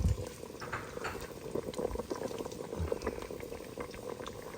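A pot of sinigang soup bubbles steadily at a rolling boil, with soft continuous gurgling and popping close by and no talking.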